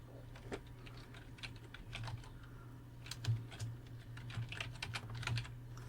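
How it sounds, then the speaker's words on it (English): Typing an email address on a computer keyboard: quiet, close, irregular key clicks in short bursts over a steady low hum, with no talking. "I'm going to type mail to, colon, followed by the email address"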